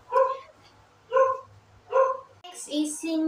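A dog gives three sharp, evenly spaced barks nearby, followed by a burst of higher yips.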